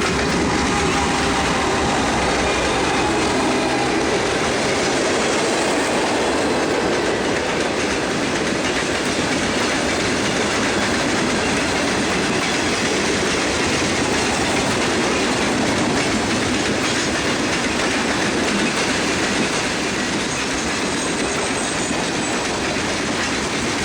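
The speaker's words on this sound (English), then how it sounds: "A Kodachrome B36-7 is in charge of the eastbound through Collier on this day." A Santa Fe GE B36-7 locomotive hauls an eastbound train through Collier, a loud, continuous rumble with rolling wheel clatter and faint squeal running unbroken throughout.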